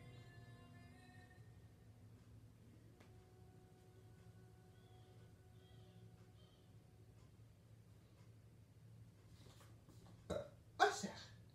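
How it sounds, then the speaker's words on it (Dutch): Baby burping, a couple of brief bursts near the end of an otherwise quiet stretch with a low steady background hum. "Je hebt een boertje, hè?"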